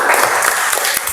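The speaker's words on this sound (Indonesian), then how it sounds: "Aplaus untuk kelompok 2." A classroom group applauding a presenting group, a brief burst of dense, close clapping from many hands.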